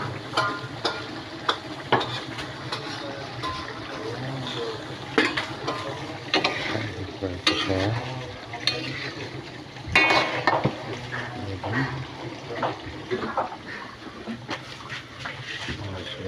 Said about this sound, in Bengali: আলু দিয়ে আলুটা কষাইতেছি